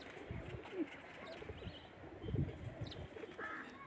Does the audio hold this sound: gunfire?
no